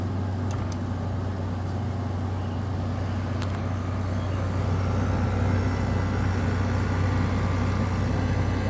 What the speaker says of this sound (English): And now let's kick the compressor on.